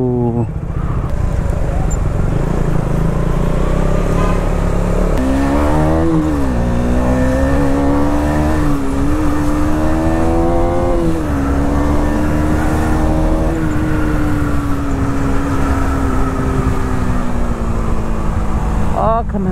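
A KTM Duke 250 motorcycle at full throttle in 4th and 5th gear, its engine note climbing loud and close, dropping as gears shift and rising again, with steady wind rush throughout.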